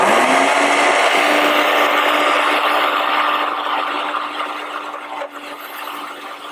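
A food processor grinds green goddess avocado dressing ingredients, a loud continuous motor whir with a steady hum and a churning, rubbing texture that eases slightly toward the end.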